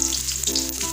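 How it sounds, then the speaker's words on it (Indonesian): Shallots and garlic stir-fry in hot oil for water spinach, a brief, steady close sizzle with a faint hiss on top and no voices. "Setelah minyak panas, kita tumis bawang merah,"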